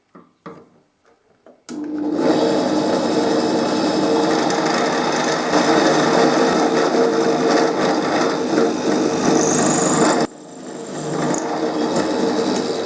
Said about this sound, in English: drill them with a 1/4 inch drill bit